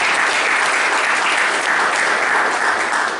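A big round of applause from a meeting audience, a thick continuous roar of clapping hands, loud and even throughout the short stretch.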